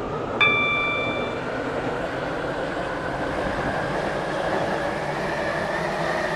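A Class 730 train rolling along in the SCR railway game, a steady low rumbling run with a brief chime-like tone near the start, continuing evenly without voices.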